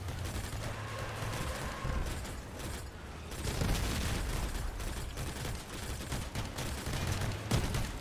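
Repeated gunfire bursts from Crossout, the vehicle combat game, rattle on steadily over a dense mechanical battle din, with fusillade-like volleys swelling and easing throughout and no voices.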